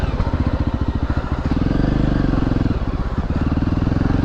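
A Voge 300 Rally motorcycle rides along a woodland track, its engine a close, steady, rapid thrumming pulse that rises slightly in pitch partway through, loud and continuous with rattling over rough ground.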